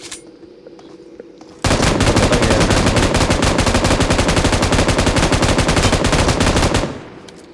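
Sustained machine gun fire from the video game PUBG bursts in after a quiet opening, a loud rapid unbroken stream of shots lasting about five seconds before cutting off.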